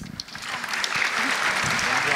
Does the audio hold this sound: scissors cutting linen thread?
no